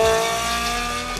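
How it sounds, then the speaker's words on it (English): Ferrari Enzo V12 engine running loud and steady, a sustained harmonic drone with a rising, revving pitch throughout. "That's a Ferrari engine."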